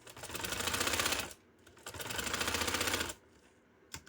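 A sewing machine stitches down a fabric tassel piece in two steady, continuous runs of rapid mechanical clatter, each about a second long, separated by a short pause and followed by a faint click. Nobody speaks.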